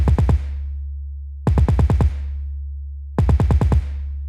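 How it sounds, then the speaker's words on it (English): 808 bass playing too fast so its notes overlap, producing a wobbling, distorted low drone under three bursts of rapid drum hits, each burst about a second and a half apart, with no talk. "You're going to hear the bass wobble and it sounds distorted"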